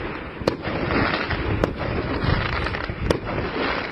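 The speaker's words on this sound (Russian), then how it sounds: "8 мая, еще не День Победы, но салют уже долбашит." Fireworks salute bursting at a May holiday celebration in Aktau, with sharp booms and crackles repeating about every second and a half over a continuous rumble of distant explosions.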